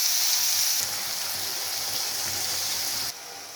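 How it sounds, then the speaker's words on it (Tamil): Chopped banana flower frying in oil with onions, a steady hissing sizzle throughout that softens slightly partway and again near the end, with no talk. "அதில் நம்ம கட் பண்ணி வச்சுருக்கிற வாழைப்பூ அப்படியே மிக்ஸ் பண்ணிடுங்க."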